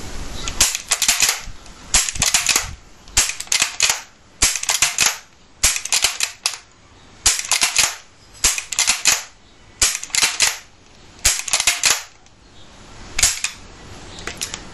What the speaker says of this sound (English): this particular feature on the Enfield Action means it's possible to do what the British call volley firing